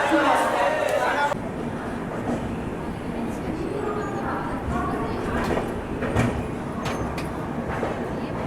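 The Vivek Express pulls away from platform 1 at Vizianagaram station with a steady rolling rumble and occasional clacks and squeals from the carriages, while voices murmur nearby.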